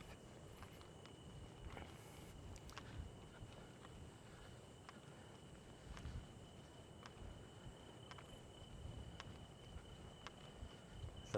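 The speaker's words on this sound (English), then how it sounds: "The only sounds I'm hearing are the insects like cicadas or crickets." Insects such as cicadas or crickets chirp faintly in Witsand, South Africa, a thin steady high tone with scattered soft clicks over a quiet outdoor background, with footsteps and no talking.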